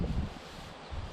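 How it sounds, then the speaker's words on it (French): Strong wind buffets a GoPro microphone outdoors by a garden enclosure, giving low, gusty rumbling that swells at the start and again near the end. "Il y a énormément de vent,"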